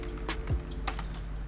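Someone types on a computer keyboard while editing a Minecraft plugin, a quick run of faint, close key clicks with a slightly irregular rhythm over low background hum.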